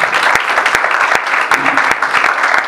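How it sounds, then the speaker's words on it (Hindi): A church congregation at a Sunday Urdu sermon claps loudly for Waseem, close, vigorous applause with distinct individual hand claps standing out over a packed, continuous roar of clapping. "वसीम के लिए जोरदार तालियां."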